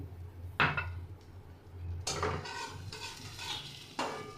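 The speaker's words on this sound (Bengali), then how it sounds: "ডালটাকে আমি হালকা বাদামি করে ভেজে নেব" Mung dal fries in a pan until light brown, with a few scraping spatula strokes and clinks over a low, soft sizzle, close and fairly quiet.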